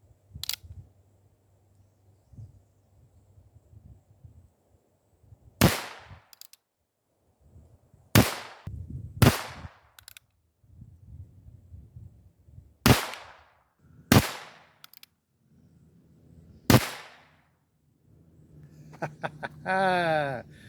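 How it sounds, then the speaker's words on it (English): A 52-year-old Ruger Single Six .22lr revolver fires about eight sharp, loud cracks, spaced unevenly several seconds apart, with quiet gaps and low background rumble between them. "First shots out of our Ruger Single 6."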